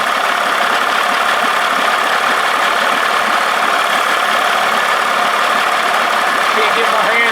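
A 1979 Evinrude 55 hp outboard motor runs steadily, a loud, dense, rough mechanical drone with no break from start to finish.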